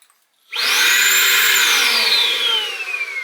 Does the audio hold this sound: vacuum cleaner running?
yes